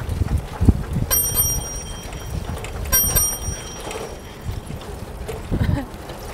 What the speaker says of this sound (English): Oh, I'm gonna have so much fun with this bell.